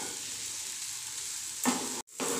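Mashed potato roasting in a pan over a medium flame, a steady soft sizzle with a brief louder burst of stirring near the end, close and fairly quiet.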